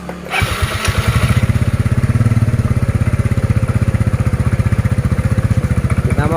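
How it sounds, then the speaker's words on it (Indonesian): A motorcycle fitted with a battery voltmeter and temperature thermometer, left running for some time, catches and settles into a steady, rapid idle thump that stays close and loud throughout. "Nah ini motor udah saya nyalakan lumayan lama"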